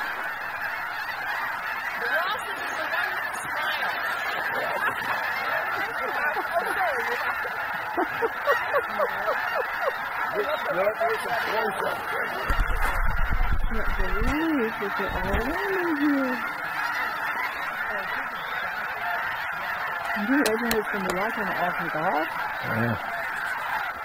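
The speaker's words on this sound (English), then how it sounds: "All snow geese, okay." A large flock of snow geese honks continuously at a wildlife refuge, a dense overlapping clamor of calls with some louder nearby honks, while a few people talk quietly underneath.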